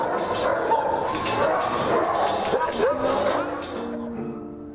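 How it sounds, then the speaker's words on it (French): Dogs bark and yip at an SPCA animal shelter, sharp repeated calls with some whimpering, heard close under ongoing speech. "C'est un chat qui entend les chiens japper à côté"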